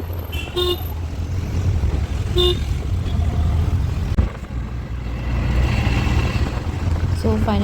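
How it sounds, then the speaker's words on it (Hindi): Busy Bangalore traffic on a working day: a constant close roar of road noise, with several short horn toots from cars and bikes sounding over it. "वर्किंग डेज में बेंगलोर का ट्रैफिक अलग ही होता है।"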